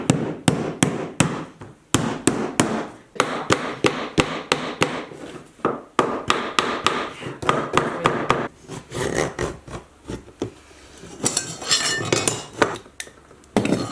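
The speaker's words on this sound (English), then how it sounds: "you hook it on the edge and you just kind of tap it with your mallet" Rubber mallet sharply tapping a flooring plank into place with a pull bar, many loud close knocks in quick bursts with short pauses between them.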